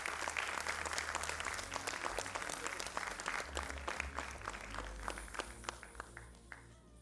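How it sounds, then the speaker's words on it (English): Audience applause at a class of 2025-26 A Levels graduation ceremony, a dense, steady burst of many hands clapping that carries on loud for about seven seconds before easing slightly at the end. "A loud applause, everybody."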